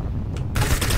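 A sniper rifle no-scope shot in Roblox Arsenal: one short, sharp crack cutting in abruptly over low background rumble and game noise, close and loud, with a brief faint tick just before it.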